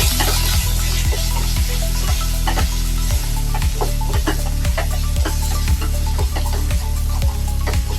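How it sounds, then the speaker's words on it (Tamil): Chilli powder and curry masala sauté in a pan for prawn thokku, a loud, steady sizzle with stirring scrapes and faint clicks over a constant low hum, no voices. "மிளகாய் தூள் குழம்பு மசாலா இதெல்லாம் நல்லா சேர்த்து பச்சை வாசனை போகிற அளவுக்கு நல்லா வதக்கிக்கலாம்"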